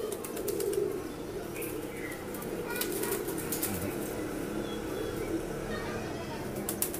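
Pigeons bred from a Golden and Rampuri cross beat their wings in flurries of fluttering flaps, set against a constant noisy outdoor background.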